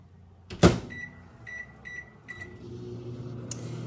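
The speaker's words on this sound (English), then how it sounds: "So let's stick this in the microwave for 60 seconds." A microwave door shuts with a thud, a few keypad beeps sound, then the oven starts up with a steady low hum.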